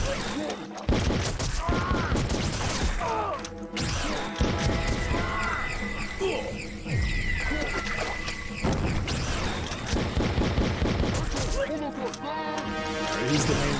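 Gunfire and explosive impacts from an enemy wielding a rocket-launcher-like weapon in the video game Outcast, a dense barrage of crashes and booms running throughout, loud and near, with someone talking over it at times.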